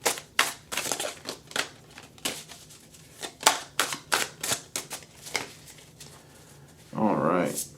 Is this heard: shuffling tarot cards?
yes